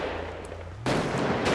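Gunfire in a GTA V FiveM roleplay session, a loud broadband burst that erupts after a quieter stretch and stays dense and sustained, with a second surge near the end, alone without talk.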